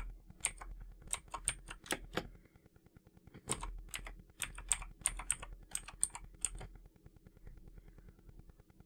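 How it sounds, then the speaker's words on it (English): Keys clatter on a computer keyboard in two quick bursts of close, crisp clicks separated by a brief pause, with a few final taps trailing off in a quiet room. "From start menu search box, type task scheduler."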